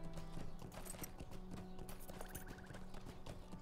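Horse hooves clip-clop in the Lord of the Rings Online game, a quick, steady trotting rhythm heard up close over looping game music.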